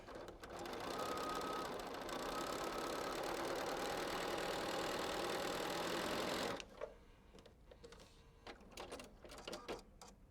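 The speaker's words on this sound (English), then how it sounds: "So I'm going to sew on the inside." A sewing machine runs steadily while stitching a quilt seam, a close continuous whirring hum for several seconds that stops abruptly, leaving faint fabric handling and small clicks.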